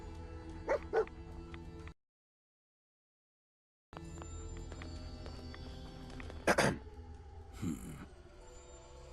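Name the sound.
dog Dogmeat barking in video game Fallout 4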